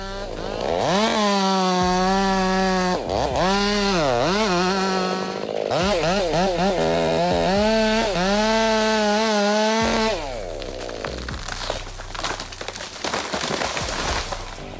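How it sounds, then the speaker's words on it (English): A chainsaw revs loudly, its pitch rising and falling as it bites into a giant tree, then cuts out into scattered cracking and creaking sounds. "he still succeeded in sawing down a giant tree"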